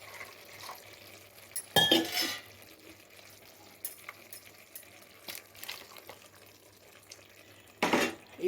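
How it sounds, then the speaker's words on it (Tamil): Water swishing in a steel mixer jar while it is rinsed out and poured into a pea and potato kurma, close and fairly quiet, with two louder splashing pours and light clinks of metal between them. "கொஞ்சம் மிக்சியை கழுவி கொஞ்சம் தண்ணி கொஞ்சம் விட்டுப்போம்."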